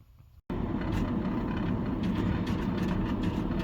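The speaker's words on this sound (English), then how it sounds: "So when the blower's running on this side, I'm getting some kind of a noise." Furnace blower running steadily and loud after a brief cut at the start, a continuous broadband rumble with faint irregular knocks or rattles that could be a loose baffle.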